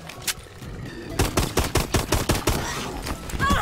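Rapid bursts of automatic gunfire from the Exo Zombies mode of a video game as players shoot at zombies, a loud rattling volley of many close shots in quick succession with brief gaps.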